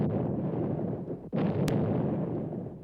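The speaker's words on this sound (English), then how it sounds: "The Russian Navy, anchored on the islands of Kronstadt, answers the German gunfire with broadside salvos." Heavy, rumbling naval broadside salvos from the Russian Navy at Kronstadt in World War II, with deep booms rolling on, plus a sharp burst midway; distant, continuous and forceful, like old wartime gunfire.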